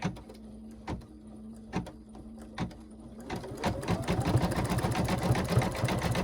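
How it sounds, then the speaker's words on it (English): An embroidery machine sews a satin stitch with thread around a gnome's nose. A few separate mechanical thumps come first, then a steady, rapid, close-up stitching chatter runs continuously. "this is going to do a satin stitch around his nose"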